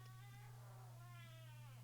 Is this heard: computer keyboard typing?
no